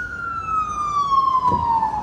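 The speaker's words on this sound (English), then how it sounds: "Hold on, there's sirens right here." A loud siren wails close by, its steady tone slowly sliding lower in pitch as the vehicle passes, with a brief thump midway.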